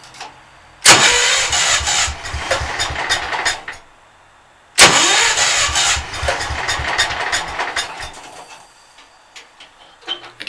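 An engine cranks over and sputters through two long, loud starting attempts, each cut off abruptly, followed by quieter ticking and rattling in between.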